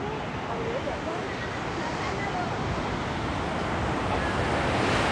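Waves and wind at Wediombo beach make a loud, continuous roar of surf with heavy wind buffeting the microphone. Nothing else stands out against the wash.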